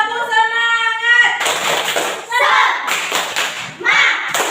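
Students in an elementary classroom do a rhythmic spirit clap. Children's voices chant first, then come bursts of sharp, close claps and thumps in short patterned groups, mixed with shouted voices.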